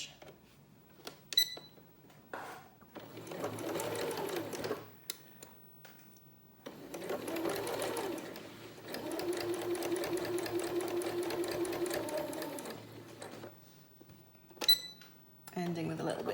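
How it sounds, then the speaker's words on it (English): Sewing machine stitching a fabric mask pouch on a long stitch setting, with short back stitches, several runs of steady rapid mechanical whirring separated by pauses and clicks, close and clear. "down each edge with the long stitch setting on the machine"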